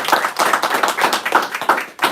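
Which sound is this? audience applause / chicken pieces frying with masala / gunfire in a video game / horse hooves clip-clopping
audience applause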